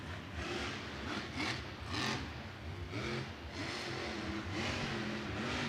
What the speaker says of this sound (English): I love listening to the way Kristen drives this truck.